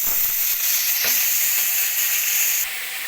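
Cut potatoes with a little salt and turmeric frying in oil after garlic, chilli and bay leaf, a loud, dense, continuous hiss that eases slightly near the end, heard close up with no talking.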